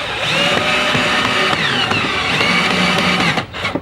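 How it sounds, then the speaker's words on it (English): A power drill whirs steadily as it drives screws into the aluminium wall profile of a Hoklarthem Riga greenhouse, loud and close, with a sustained motor whine and brief stops near the end. "I tend to use a drill because it's a little faster"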